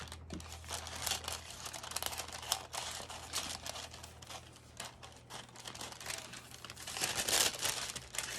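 A pattern piece for a Karri top is cut out, giving a continuous crinkly rustle of paper and fabric with soft snipping, close and quiet, with no talking.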